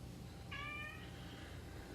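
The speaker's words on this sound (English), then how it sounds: "Dogs and cat." A house cat gives one short, faint meow in the middle of a quiet indoor moment, over a low steady room hum.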